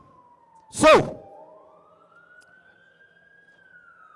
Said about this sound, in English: Can we wait for this siren to stop?